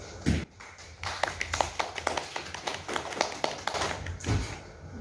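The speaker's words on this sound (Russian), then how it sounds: "И жиденькие аплодисменты" Thin, scattered applause from a small audience of students at a poetry meeting: a handful of separate claps, irregular and unhurried, at moderate distance with a soft room hum behind them.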